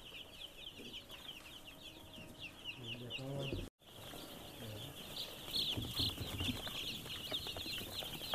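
A flock of young chickens in a large coop, continuous high peeping and clucking from many birds close by, with a brief dropout partway through and faint background noise.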